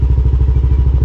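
A motorcycle engine warming up at idle before a ride, a loud close, steady low thumping pulse beating rapidly and evenly with a slight clatter.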